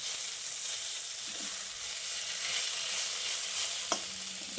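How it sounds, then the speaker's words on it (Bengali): Drumstick flowers fry in a pan with a constant, close sizzling hiss. Two soft knocks from the stirring utensil break in, one early and one near the end. "এইভাবে নাড়াচাড়া করতে করতে এক সময় দেখবেন যে সজনের ফুলটা পুরোটাই ভাজা হয়ে গেছে, একটুও কাঁচা নেই।"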